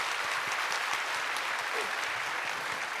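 A steady burst of clapping from a church congregation during a Sunday service, celebrating a baptism, fills the room, even and sustained throughout.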